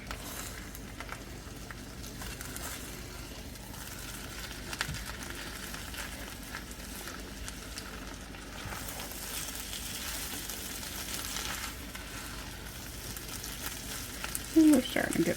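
Spam breakfast hash frying in a pan just after being flipped, a soft, steady sizzle with faint crackles and patter, quiet and continuous, with a few brief scraping sounds near the end.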